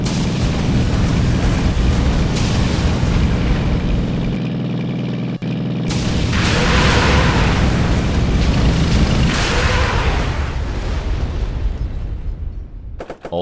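Bofors gun fire and explosions in a modded Minecraft war game, a dense continuous roar of booming blasts with sharp bursts and brief dips, loud and unbroken with no speech.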